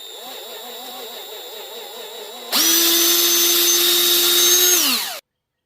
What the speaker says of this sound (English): I got this brand spanking new drill bit set.